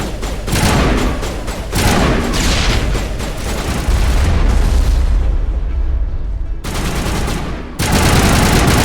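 Loud, booming blasts and rapid gunfire bursts in the Mass Effect video game after a grenade is thrown, several heavy explosions with rumbling low end, a brief quieter gap, then more close, intense detonations.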